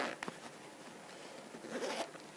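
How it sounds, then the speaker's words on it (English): A zipper on a newly sewn fly is pulled up, giving a close, quiet rasp that rises at the start and again near the end, with no talking. "So do up your zip."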